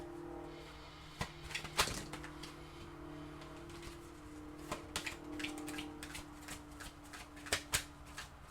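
Oracle cards being shuffled during a reading: soft, scattered riffling clicks and flicks of card stock, quiet and close with no one speaking.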